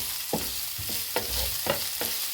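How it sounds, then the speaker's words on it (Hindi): Chopped onion and garlic-ginger paste fry lightly in a pan for paneer cutlets, a steady soft sizzle broken by several distinct scraping stirs of a spoon at fairly even intervals, close and alone. "दोनों चीज़ों को यहाँ पर हम हल्का सा फ्राई करेंगे"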